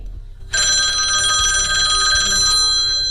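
An old telephone bell rings loudly and steadily for about two seconds after a brief quiet start, with a bright metallic tone and no speech over it.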